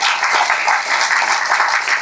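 A crowd at a Tamil film audio launch event claps steadily, a dense, close and loud burst of applause with no talking over it.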